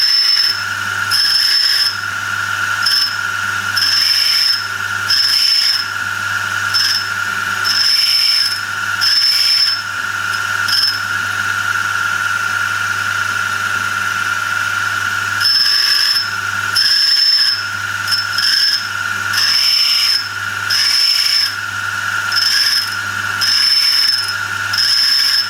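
Countersink cutter ground on a white aluminium oxide 46-grit wheel, a steady high whine with a low hum beneath, pulsing in regular rhythmic passes, loud and close with no talk.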